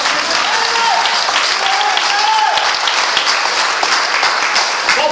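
Church congregation claps loudly in a dense, sustained burst, with voices and a musical tone rising over the applause.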